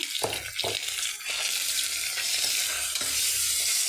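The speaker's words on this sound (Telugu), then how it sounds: "ఉప్పు పసుపు వేసుకున్నాం అనుకోండి ఆయిల్లో చాలా తొందర ఫ్రై అవుతుంది" Mutton keema frying in oil with salt and turmeric in AMC cookware, a dense close sizzle broken by several scraping stirs of a spatula against the pan.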